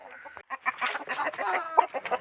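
Desi aseel chickens cluck busily while pecking at scattered millet grain in a hen house, a steady cluster of close, overlapping clucks and soft calls with one brief sharper cry near the end.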